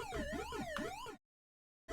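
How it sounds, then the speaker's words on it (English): Wailing Pac-Man ghost siren from the arcade video game, a warbling electronic tone rising and falling in repeated sweeps for about a second, then abrupt silence before it briefly resumes at the end. "But listen, we've got the siren."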